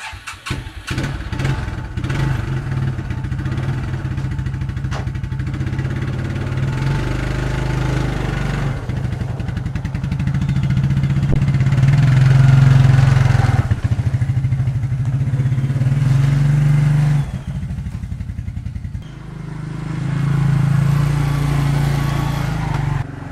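Engine of a 1994 Suzuki Quadrunner 250 4x4 ATV idling steadily in a garage on a jumper box, a loud close rumble with a low throb that rises and dips slightly in speed, continuous and with no talk.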